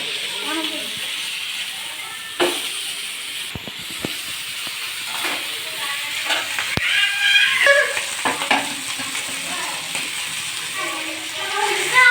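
Fish pieces fry in oil with a steady, close sizzle and hiss, broken by stirring scrapes and clicks. A voice talks faintly underneath.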